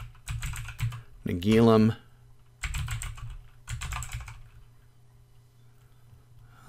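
Bursts of rapid clicking keystrokes on a computer keyboard come in several separate runs with pauses between them as an email and username are entered, and a voice speaks briefly between the bursts.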